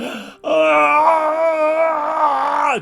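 A long, drawn-out voiced yawn, loud and close, rising into a sustained groaning tone before trailing off.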